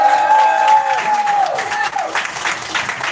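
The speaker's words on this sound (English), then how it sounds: "Clap it up" Audience applause and cheering fill a bookstore event, with a voice speaking loudly over the crowd at first before the clapping carries on as a dense, steady wash.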